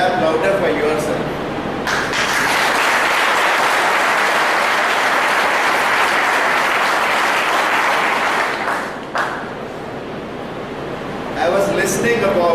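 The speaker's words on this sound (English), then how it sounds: "I think you can clap louder for yourself." Audience applause at an Engineers Day event, a loud sustained wave of clapping that swells quickly, holds steady for several seconds, then dips and briefly resumes.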